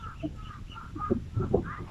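Soft, repeated hen clucks at close range, a few short bursts over a low background murmur.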